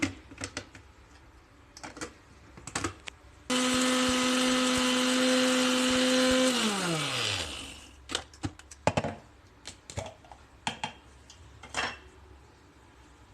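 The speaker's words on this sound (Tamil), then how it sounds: "இப்போ மசாலாவை அரைச்சி எடுப்போம்." A kitchen mixer grinder runs loudly for about four seconds, grinding coriander, dried red chillies and curry leaves for masala, then winds down in a falling whine, with light clatter of jars and utensils before and after.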